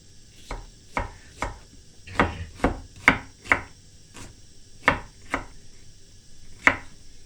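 Onions are sliced into thin julienne strips with a knife on a cutting board: a steady run of about a dozen crisp, close knocks, some quick and some spaced, with no talking.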